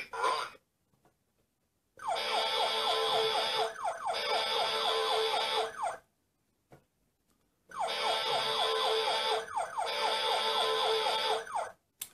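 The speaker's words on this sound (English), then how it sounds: "So those are all very American sounds from an American fire truck." Toy fire truck siren effects play loud and close in two bursts with short silences between them, each a rapid electronic wailing siren pattern lasting a couple of seconds.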